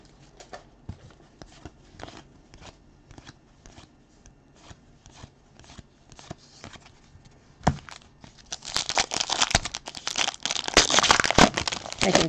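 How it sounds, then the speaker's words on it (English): A cat rolls around in crinkly plastic wrappers: soft scattered rustles at first, then denser and louder crackling and crumpling as the animal dives in. "Sometimes they just dive in there and kind of roll around, so you may hear a bunch more crinkling in a minute."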